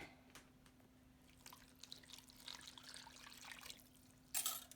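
Liquid pours into a homemade play-dough mixture in a kitchen with a faint, uneven trickle and dribble that ends in a brief, louder splash.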